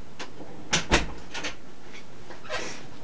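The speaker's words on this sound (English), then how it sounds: "let me close the door really fast" A door pulled shut quickly indoors: a sharp latch click followed at once by a solid thud, then a few faint, soft knocks in a quiet room.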